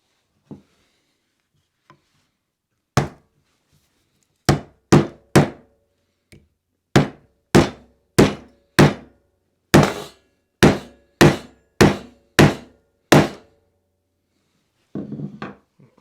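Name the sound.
hammering guitar frets into fretboard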